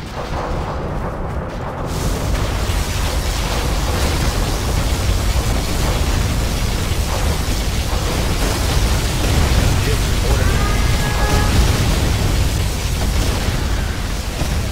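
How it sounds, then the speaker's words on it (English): Heavy, continuous explosive rumble and roaring blasts from a particle cannon strike in Command & Conquer Generals, loud and dense throughout, with brief electronic tones poking through. "Particle cannon activated."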